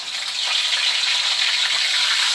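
Whole spices including cloves crackle in hot oil in a pan, a loud, bright, continuous sizzle up close with no voices.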